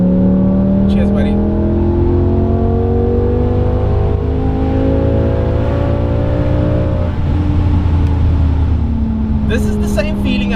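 A BMW 850i fitted with a V10 engine pulls hard through the gears, a loud, rising high-revving engine note that climbs steadily for several seconds, with a driver's voice talking over it throughout.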